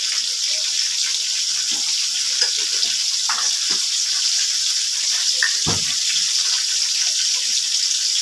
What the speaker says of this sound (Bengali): এই যে প্রথমে আলুটা ভেজে তুলে নেব, তারপরে ব্রকলিগুলো ভেজে নেব।